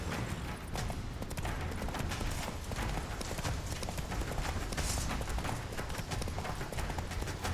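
Roach the horse's hooves clip-clop steadily in Witcher 3, a continuous close, loud rhythmic gait that runs the whole time under dense game ambience.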